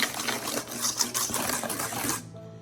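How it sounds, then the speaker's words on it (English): Egg and sugar whisked together for a blueberry cake, giving a rapid, dense run of close metallic clicking and rattling that stops abruptly near the end, no talking. "I'm going to take a whisk and just really whisk it really well."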